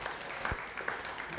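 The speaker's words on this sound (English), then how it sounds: "let's hear it for Art." Audience applause from a lively crowd at a Santa Barbara talk about Central Coast ocean adventures and the tall ship Mystic Whaler, a steady dense patter of clapping throughout, moderately loud and without voices.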